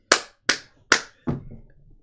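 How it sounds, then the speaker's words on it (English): Three crisp, evenly spaced claps ring out in a video game card match, followed by a fourth duller, longer slap that trails off, each sharp and close against silence. "1 clap for every life gained by Bellhaunt."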